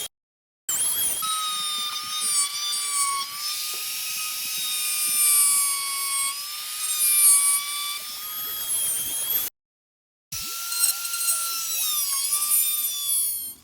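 A rotary carving tool fitted with a coarse, extreme taper burr cuts into wood, a steady high motor whine with shifting pitch that drops out briefly near the end before resuming, no talking.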